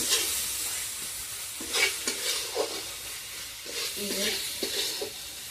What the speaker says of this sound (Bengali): মশলাটা শুকিয়ে ভাজা হয়ে গেছে।